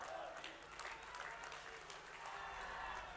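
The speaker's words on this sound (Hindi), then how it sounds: "एक बार जोरदार तालियां।" A large crowd at a political rally in Dehradun applauds Uttarakhand's chief minister, a dense, continuous wash of clapping and crowd noise heard from a distance.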